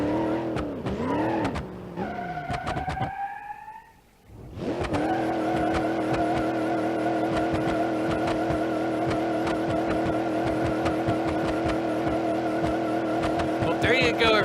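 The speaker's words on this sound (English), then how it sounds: "let's do the burnouts to end all burnouts" Simulated car in BeamNG.drive doing burnouts, a loud continuous engine roar with harmonic whine and squealing tires, briefly dropping out near four seconds before resuming steady and sustained to the end, with speech-like tones mixed in.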